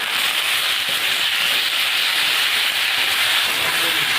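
Tomato and cumin paste sizzles loudly with onions in a hot pan, a constant close hiss with no break and no voices.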